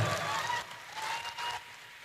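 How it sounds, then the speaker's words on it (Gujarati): An audience at a lucky draw prize event in Madhapar, Bhuj claps for a winner, a brief burst of crowd applause that holds for about two seconds before thinning out. "વધાવો તાળીઓના ગગડાટ"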